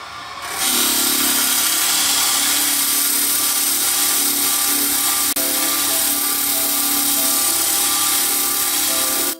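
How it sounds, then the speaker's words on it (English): A rotary tool spins a 320 grit sanding sponge at about 1800 RPM while smoothing a wooden wand, a loud, steady high whine held unbroken for nine seconds after a sudden start. "I've got a 320 grit sanding sponge here, and I'm going to start off at about 1800 RPM"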